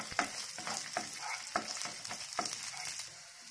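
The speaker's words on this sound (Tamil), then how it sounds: "வெங்காயம் நல்லா வதக்கிடலாம்." Onions sizzle and fry in a hot pan for bread upma, with a steady hiss broken by periodic scraping stirs at a close, moderate volume.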